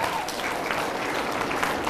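Children's camp audience applauding together, a steady, even wash of many small hands clapping, moderately faint and continuous for a couple of seconds.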